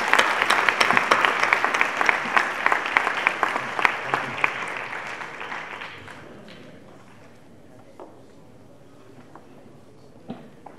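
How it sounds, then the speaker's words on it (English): Audience applause at a memorial ceremony for a flag presentation, dense clapping for about six seconds before thinning into scattered claps and fading out. "I want to give them a round of applause"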